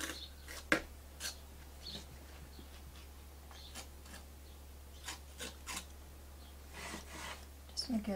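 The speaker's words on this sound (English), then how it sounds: "Now I'll have to go back in and dry rub a little bit more." Dry brush rubbing paint onto a painted wooden nutcracker piece in tole and decorative painting, soft irregular scratchy strokes over a low steady hum.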